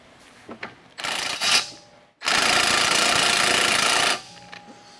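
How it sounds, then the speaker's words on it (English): A big impact wrench with a small universal joint removes suspension bolts on a BMW E36 M3, two short bursts followed by a loud sustained rattling run of about two seconds, close up, with no talking. "So we're going to take our big impact here, and we got our little universal."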